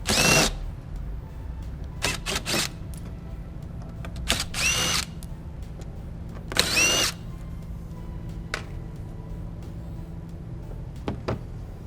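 A power drill removing the bolts on a Firman 3200W inverter generator, several short loud whirring bursts spaced apart, close up, with faint tool clicks between them.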